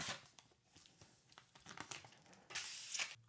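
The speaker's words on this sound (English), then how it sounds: "Peel off the plastic." Protective plastic film peeled off the front of a CoolGeek M1 CD display, a faint, close crinkling and tearing that comes in short bursts.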